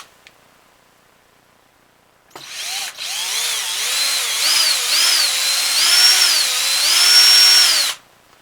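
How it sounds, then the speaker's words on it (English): A power drill bores through holes into wood while attaching a SnapBow handle, a steady whining drone with wavering pitch that starts abruptly, runs for about five seconds close by, then cuts off. "So we drill through them and through into the wood."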